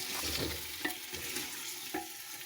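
Chicken roasting in a clay pot for matka biryani gives a steady close sizzle and fry hiss throughout, with a few soft stirring scrapes and clinks standing out; no one talks.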